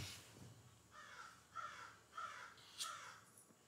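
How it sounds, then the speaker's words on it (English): Several crows caw outdoors in a series of four or five harsh calls spaced about half a second apart, heard at a moderate distance and fairly faint. "Can y'all hear those crows outside laughing at me?"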